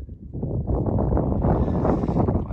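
Outdoor wind gusting against the microphone before a drone flight, a loud, rough buffeting rumble that swells after a quieter start and keeps up unevenly throughout.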